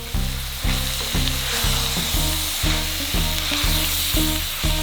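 Onions fried in a pan with demerara sugar, a loud steady sizzle under an even rhythm of repeated scraping strokes, close up and without voices.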